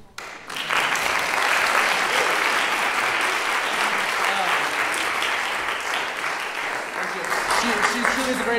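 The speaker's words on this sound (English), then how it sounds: "So if we could give one more round of applause." An audience at a university senior recital breaks into sustained applause, a dense, loud patter of many hands that starts abruptly and carries on evenly to the end, with some voices mixed in.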